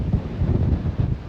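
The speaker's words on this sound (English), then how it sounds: "It's so crazy windy up here" Strong wind buffets the microphone on a high hilltop beside a monument in Scotland, a loud, gusty low rumble with uneven surges throughout.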